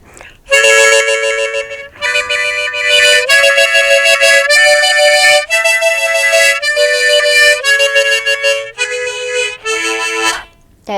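A flutter-tongued wind instrument note, produced by rolling the tongue while blowing with pursed lips over a partly covered hole, sounds as a loud, bright, sustained buzzing tone in several phrases with brief breaks between them.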